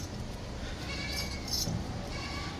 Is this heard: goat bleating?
yes